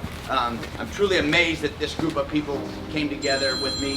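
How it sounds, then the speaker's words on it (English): A mobile phone ringtone starts up near the end of a speech at a military retirement ceremony, a steady electronic tone that rises beneath someone speaking into the room. "That's my phone."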